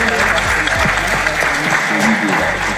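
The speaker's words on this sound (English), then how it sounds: "give yourselves a round of applause and appreciation to the folks for being here" Audience applause at a community event on Black Pittsburgh, a steady, fairly loud crowd clapping throughout with a low rumble of room noise underneath.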